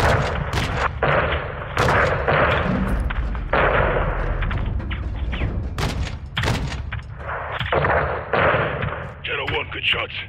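An air strike levels a building in Call of Duty Modern Warfare 2, with loud booming explosions and gunfire crashing repeatedly while radio voices talk over the barrage.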